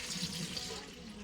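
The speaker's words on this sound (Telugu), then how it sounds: "అవి ములిగే వరకు నీళ్ళు వేసి" Water pours into a pot of sweet potatoes for boiling, a brief close gush of running, splashing liquid over about a second, fairly faint.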